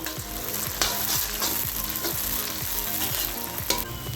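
Onions and tomatoes fry in oil in a pan for chicken biryani, a dense close sizzle with regular scraping strokes of a spoon stirring, no talking.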